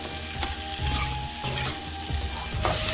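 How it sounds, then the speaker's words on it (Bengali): Katoar data (drumsticks) frying and being stirred in a pan with turmeric, a steady close sizzle broken by repeated scraping strokes of a spoon against the pan, with no voices. "এই যে আমার এই ডাটাটা ভালো করে ভাজা হয়ে গেছে"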